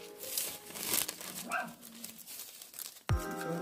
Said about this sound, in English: I'm sorry if you hear my dog barking.